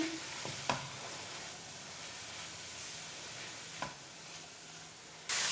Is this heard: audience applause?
no